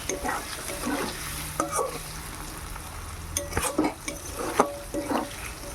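Potol (pointed gourd) and paneer frying in a pan, with a steady close sizzle under repeated scrapes and clinks of a spatula stirring against the metal.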